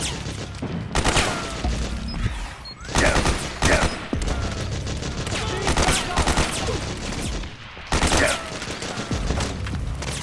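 Metal Gear Solid 4 firefight: dense, sustained gunfire from several weapons overlaps continuously, with louder bursts punching through at intervals and shouting voices mixed into the din.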